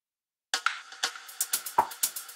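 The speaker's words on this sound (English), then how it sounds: "transition percussions made with claps" Clap percussion hits in a progressive or melodic house production, panned left and right and layered with noise downlifters, cymbal and crash; a quick rhythmic run of about a dozen sharp, bright claps with noisy tails, alone and fairly loud.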